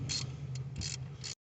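Ratchet wrench clicking as it loosens the nut on the idler tensioner pulley of a Jeep Grand Cherokee WJ 4.0, with several short bursts of close metallic ratcheting in quick succession.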